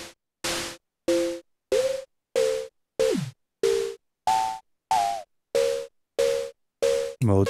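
Perkons HD-01 drum machine voice in mode 1 fires a dozen short, evenly spaced tonal hits, each a bright buzzy tone with noise on top, pitch shifting and sweeping on some strikes, loud and alone with silence between.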